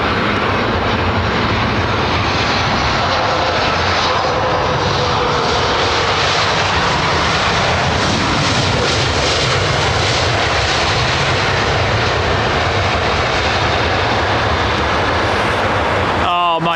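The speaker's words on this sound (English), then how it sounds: "The Qantas 380, yeah? Yeah, I can see it" Qantas Airbus A380 arriving over Heathrow runway 27R, a loud sustained broadband jet engine roar filling the whole span, with voices talking faintly underneath.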